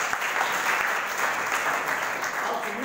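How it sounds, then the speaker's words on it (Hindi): Students at a school clap hard for Sumit Kumar, a dense, steady round of applause from a roomful of hands with no break. "सुमित कुमार के लिए जोरदार ताली।"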